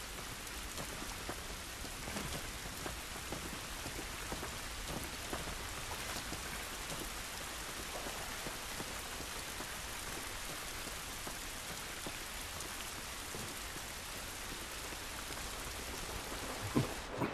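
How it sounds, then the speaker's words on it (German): Steady rain falls in the video game The Last of Us, a dense, even hiss of drops on surfaces lasting throughout with no talk. "Der Regen ist nicht gut für uns."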